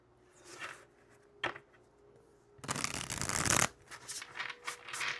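Riffle shuffles of a tarot card deck: a few brief riffling bursts, then a longer loud cascade of cards around the middle, followed by softer shuffling.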